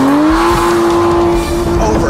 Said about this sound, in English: the gears are really, really short and closely spaced. You are constantly shifting